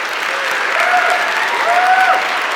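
Loud, sustained applause from the audience at a Linux conference talk, a dense even roar of clapping filling the whole stretch, with a few cheers or whistles rising over it.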